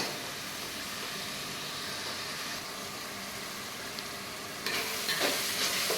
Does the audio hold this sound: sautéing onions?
yes